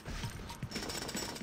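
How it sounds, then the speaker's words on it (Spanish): Jackhammer pounding apart LEGO blocks in the video game LEGO City Undercover, a dense continuous rattling hammer that stays loud and steady for the whole short stretch with no talk. "Llevo toda la vida con el martillo neumático y tan pancho."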